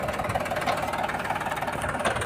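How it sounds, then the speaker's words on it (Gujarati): A tractor with a battery problem idles nearby, its engine giving a steady, close, rhythmic knocking chug with no pauses. "ટ્રેક્ટર ચાલુ કરી લે"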